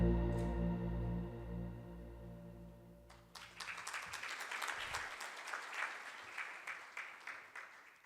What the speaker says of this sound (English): We should take those claps back to whoever made that video.